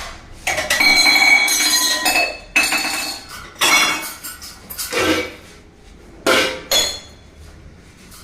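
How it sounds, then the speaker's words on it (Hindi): Dishes, steel pots and cutlery clatter and clink during kitchen cleaning, in loud, close bursts of metallic knocks and rattles separated by brief pauses. "ये बर्तन साफ करूंगी उसमें रख दूंगी"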